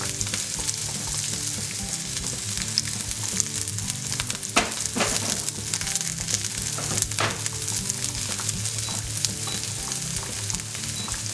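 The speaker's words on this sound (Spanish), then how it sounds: "Por otro lado ponemos una sartén al fuego con un poco de aceite y vamos pochando la cebolleta." Sliced spring onion softens in a little oil in a frying pan over medium heat, giving a steady, close, even sizzle that runs throughout with no voices.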